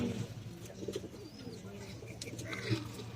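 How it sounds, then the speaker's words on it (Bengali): Pigeons coo softly at a distance, low throaty calls repeating a few times over a quiet background with faint ambient noise. "বাইরের একটা কবুতর আমার ছোট চালিতে ঢুকছে"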